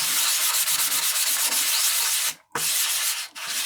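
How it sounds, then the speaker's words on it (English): A shale geode is rubbed by hand on sandpaper, giving a close, steady, scratchy rasp in rhythmic back-and-forth strokes, broken by two brief pauses. "it feels good to get back to the sandpaper again"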